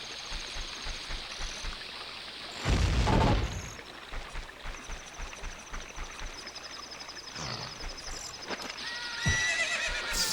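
Horse neighing and hoof clops from the video game Ocarina of Time, a loud whinny burst near the start and a couple of later snorts and thuds over a steady game ambience with stream-like background.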